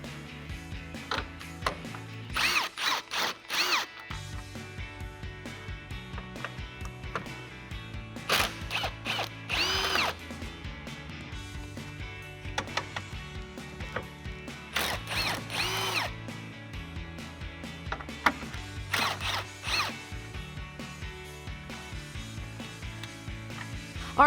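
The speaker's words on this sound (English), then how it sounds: "grab a 10mm socket, and what we're going to do is remove the 4 10mm bolts holding on the top of our grill." A hand ratchet with a 10mm socket backs out grill bolts on a 2014 Dodge Ram, giving repeated clicking bursts in short runs separated by pauses, close and fairly crisp.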